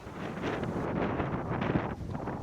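Strong wind roars and buffets the microphone continuously in Almindingen forest on Bornholm, Denmark, a loud rushing gusty noise with no voices.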